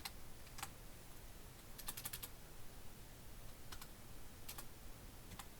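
Scattered clicks of typing on a computer keyboard, faint, in short sparse bursts over a quiet hiss with no talking.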